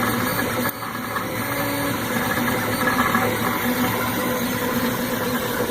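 The cooling fan on a modded Maker Select III 3D printer runs with a steady, loud whirring hum and a constant mechanical drone throughout.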